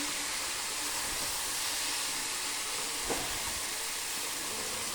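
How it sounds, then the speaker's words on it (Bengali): Shredded cabbage frying slowly in a pan for a vegetable sabzi, a constant broad hiss of sizzling oil with one soft stirring knock, close and steady, no voices. "আমিও আস্তে আস্তে 2 মিনিট ভেজে নিচ্ছি এইভাবে"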